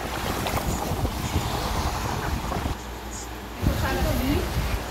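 Sea waves and gusting wind at Bitoon Beach, a constant broad rush with wind buffeting the microphone, moderately loud and steady throughout, with no talking.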